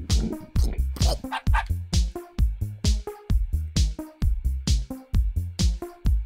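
A dog in the video game Always Sometimes Monsters barks in a fast, regular string of short, loud yips and bow-wows, about two or three per second, close and alone.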